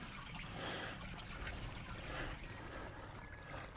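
A small hillside stream trickles and flows down into a valley on a winter hike in the Peak District, giving a faint, steady watery babble heard from close by with no talk.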